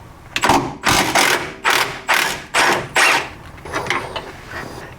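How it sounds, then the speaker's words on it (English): A 15mm socket wrench loosens a nut on an engine mount of a B-Series Ford Falcon, making a run of loud, close ratcheting bursts in an even rhythm that soften toward the end. "I'm going to put a 15mm socket on that while I hold this spanner in place on the other side"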